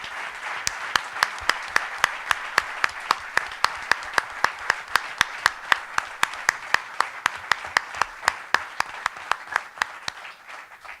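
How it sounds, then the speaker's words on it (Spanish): At the closing session of a bank youth conference, an audience claps in a steady, unison rhythm of about four sharp beats per second, continuing evenly over a bed of scattered applause for the whole stretch. "pido un aplauso para esa maravillosa mujer que fue China Zorrilla."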